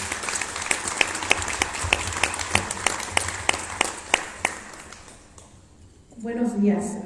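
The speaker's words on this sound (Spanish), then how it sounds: "Fuerte aplauso, por favor." An audience at a book presentation in a museum claps steadily, sharp individual claps close by in an even rhythm, fading out before a voice begins speaking at the end.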